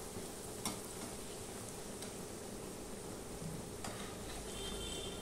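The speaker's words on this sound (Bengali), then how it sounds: "আমি ওই জন্য মিডিয়ামে করে দিয়ে ভাজছি।" Aloo paratha frying in oil over medium heat, an even, close hiss of sizzling oil that holds steady throughout, with a couple of faint clicks and no talk.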